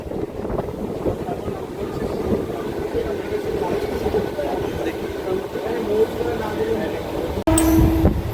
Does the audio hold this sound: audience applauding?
no